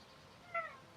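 A cat meows once in Skyrim, a short, clear mew standing alone over quiet background.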